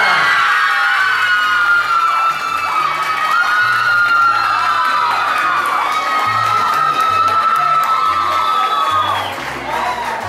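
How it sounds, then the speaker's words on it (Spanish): An audience at a karaoke awards event claps and cheers loudly, with shouts, whoops and high whistling cries over continuous applause that carries on for several seconds before easing slightly. "Y aplauso para la vida"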